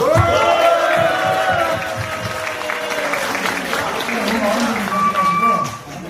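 Colleagues at a company retirement ceremony break into applause and cheering, a loud crowd burst at the start that settles into sustained clapping and shouts, with voices mixed through it.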